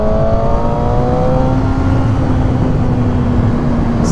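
A motor vehicle engine drones and revs steadily under loud, constant road and wind rush while overtaking another vehicle on a ride. The engine's tone holds even and close throughout, with no talking.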